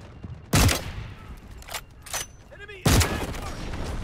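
Two loud, sharp AWM sniper rifle shots ring out in the Delta Force video game, spaced a few seconds apart with a slow fire rate, and faint game sounds fill the gap between them.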